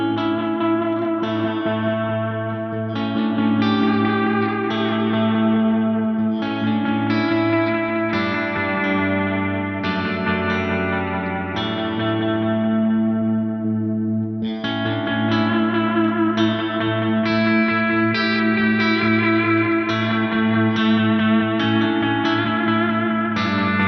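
Guitar through a Volante-style echo preset on an Axe-Fx III using four echoes, sustained chiming notes repeating in layered delays with thick trailing ambience, steady and fairly loud with no talking.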